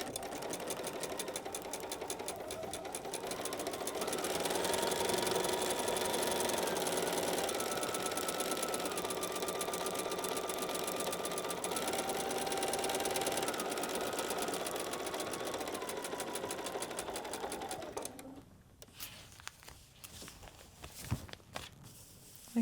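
A sewing machine stitches a quilt border in one long continuous run, steady and fairly close, then stops and gives way to a few light handling clicks and taps.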